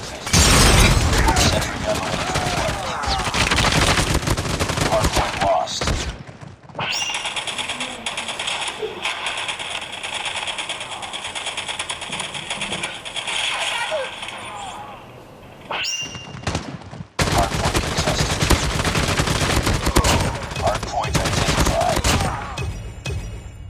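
Heavy gunfire from Call of Duty played on a Vivo Y20S smartphone, loud dense bursts of shots and mechanical clatter filling most of the stretch, with a quieter gap in the middle and voices talking over it.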